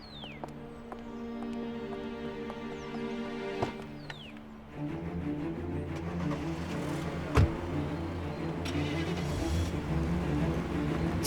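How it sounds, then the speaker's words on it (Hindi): A car engine hums steadily and then fades as the vehicle pulls away, giving way to steady rain noise. "चलो अमीन, ध्यान से गाड़ी चलाना"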